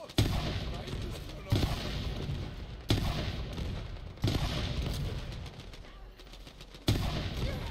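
Booming cannon shots in the video game Tiny Tina's Wonderlands fire one at a time about every one to two seconds, each a sharp blast trailing into a rumbling decay.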